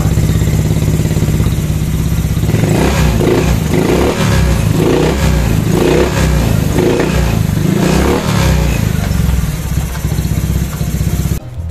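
A Honda Beat scooter engine idles and then revs up several times in smooth, even bursts before settling back, heard up close.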